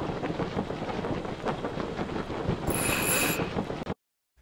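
An untrimmed sail flaps steadily in the wind, a dense rattling and fluttering racket that runs continuously and loud, then cuts off abruptly near the end.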